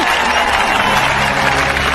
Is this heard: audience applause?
yes